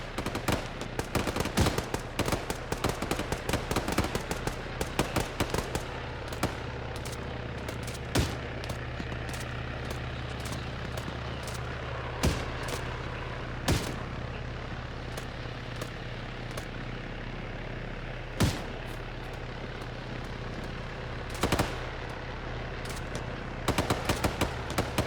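Sustained heavy gunfire in the military game Arma 3, machine-gun bursts and sharp single shots repeating over a constant engine drone, loud and continuous throughout.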